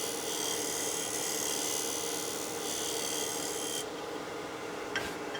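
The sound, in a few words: negative rake scraping of dense wood with a skew chisel on lathe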